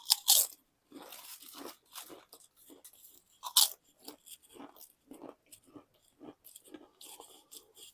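Close, loud crunching as someone bites into and chews ASDA crisps, with sharp crunch bursts followed by a steady run of softer chewing crackles over about eight seconds.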